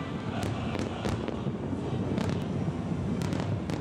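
Fireworks burst over the Hong Kong night sky, a continuous rumbling wash of booms with sharp crackling pops scattered throughout, fairly distant.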